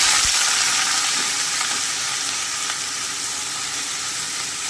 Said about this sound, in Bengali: এই তেলেই আমি এঁচড়গুলোকেও একটু ভেজে নিচ্ছি।